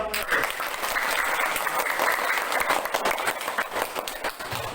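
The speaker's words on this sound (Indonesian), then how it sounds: "Kasih aplaus yang meriah" A classroom of students gives group 1 a lively round of applause, dense continuous clapping throughout with voices mixed in.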